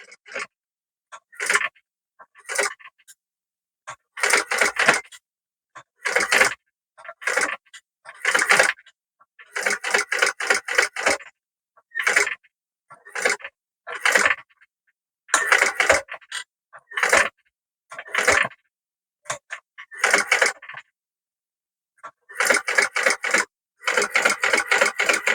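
A sewing machine stitches around a fabric pouch in short stop-start bursts of rapid mechanical clatter, each run lasting a second or so with brief silent pauses between, close and clear with no talking.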